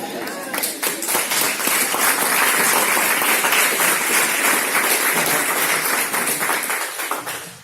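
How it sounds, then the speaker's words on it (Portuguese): A church congregation at a Sunday Bible-school class applauds its teacher with loud, sustained clapping that swells and holds, then fades near the end, with voices mixed into the applause. "Pode aplaudir a Deus pela vida do seu professor, né?"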